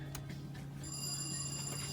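Telephone bell at a lock on Guntersville Lake, ringing in a short electronic trill over a low steady hum, faint and at a distance.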